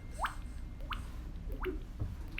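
A voice mimics water dripping, producing four distinct hollow plinks spaced evenly over two seconds, each a quick upward-sliding pop, close and fairly quiet against a low background hum.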